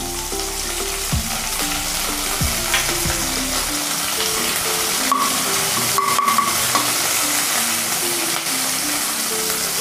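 Loud, continuous crackling sizzle of curry leaves frying in oil, with utensil clanks early on that fade, leaving a steady hiss.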